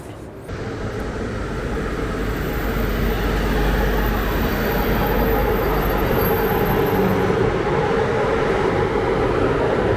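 A train rumbles steadily, heard from aboard, a continuous low roar and rattle that holds loud throughout with no voices.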